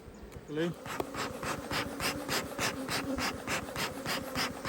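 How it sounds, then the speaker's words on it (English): Dense, close buzzing of many honey bees around a hive swarms continuously, a rhythmic pulsing hum with faint breathy noise underneath. "There's just a lot of bees here"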